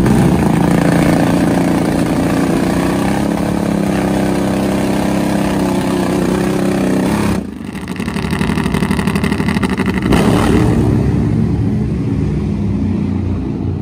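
Top Fuel nitro Harley drag bikes at the drag strip: a loud, sustained engine roar that cuts off abruptly partway through, goes quieter, then surges back strongly, with no talk.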